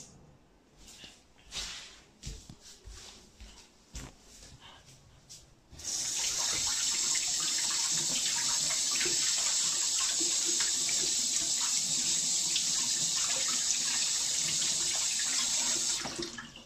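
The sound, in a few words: tap water running while washing hands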